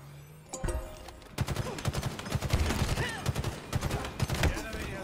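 Rapid automatic gunfire crackles in Halo Infinite ranked multiplayer, dense bursts of close shots following each other almost continuously after an opening shot.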